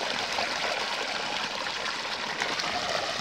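Water keeps pouring from a village pump pipe after the motor is shut off, a steady, full rushing splash that stays constant and close, with no voices over it.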